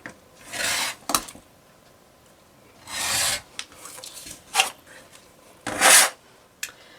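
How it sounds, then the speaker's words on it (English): Rotary cutter or scissors trimming the edges of a fabric quilt block, heard as several close, rasping strokes and short scrapes spread unevenly across a few seconds, with no talking. "Give it a little bit of a trim if we need."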